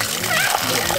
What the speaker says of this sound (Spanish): aquí está exprimiendo y acá abajo está el jugo, este jugo, ¿ven? Está goteando y ahí cae